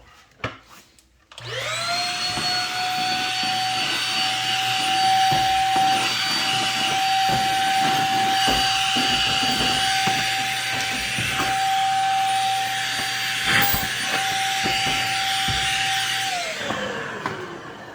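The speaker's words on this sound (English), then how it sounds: "vacuum that up" A vacuum cleaner sucking up clothes dryer lint starts with a sharp click, roars steadily with a high whine for about fifteen seconds, then winds down as it shuts off.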